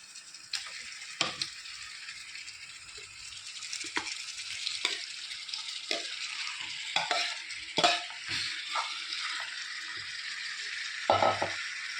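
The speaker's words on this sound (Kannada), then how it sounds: "ಇದಕ್ಕೆ ನಾವು ಮಸಾಲ ಮಾಡಿ ಇಟ್ಟ ಚಿಕನನ್ನು ಇದಕ್ಕೆ ಹಾಕುವ" Marinated chicken hitting hot fried onions in a pan, a steady broad sizzle and fry with occasional stirring scrapes, close and fairly quiet, no talking.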